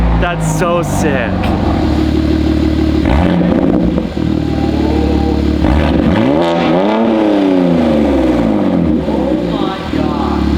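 Loud BMW G87 M2 inline-six with a titanium equal-length exhaust, valves open, revving hard from a cold start: repeated sweeping rises and falls of throaty engine note, close up, with voices talking over it.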